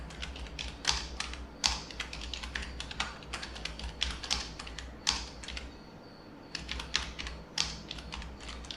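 Input is typed at a computer keyboard in a Linux terminal, a steady run of close, crisp keystrokes with a short pause before the clatter resumes, and no voice.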